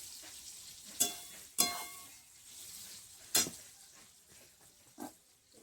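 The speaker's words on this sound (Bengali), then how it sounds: "পেঁয়াজ আর ক্যাপসিকামটা একটু ভেজে নেবো আধ ভাজা করে ভাজবো" Onion and capsicum half-frying in a pan, a quiet steady sizzle broken by four sharp clanks of a utensil against the pan.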